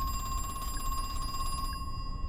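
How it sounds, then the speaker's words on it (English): Telephone ringing inside the video game Mask of Crow Country, a bright electronic trilling ring that repeats evenly and then stops near the end, heard clearly alone without speech. "Okay, let's answer the phone."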